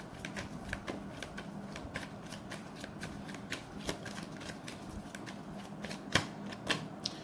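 Tarot cards are shuffled by hand, with a close, rapid run of soft riffling clicks and flicks that continues steadily, growing a little sharper near the end as cards are pulled.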